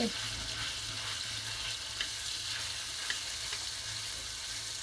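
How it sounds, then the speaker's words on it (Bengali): Marinated chicken fries in oil in a pan with a steady, soft sizzle and faint crackle. The sound runs evenly throughout with a few small clicks. "এখন এই চিকেনটাকে আমি দিয়ে দিব চিকেনটাকে দিয়ে তারপরে ভেজে নিতে হবে"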